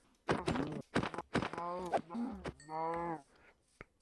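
Cows mooing in a video game, a few short close moos and one longer drawn-out call, heard alone with no talking.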